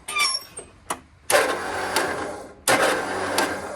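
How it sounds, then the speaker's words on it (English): After a few short clicks and rattles, the starter on a GT/18 motorcycle whirs in two long spinning bursts without engaging or catching, loud and close. "Starter just spins and isn't engaging."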